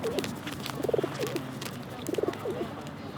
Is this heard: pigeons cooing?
yes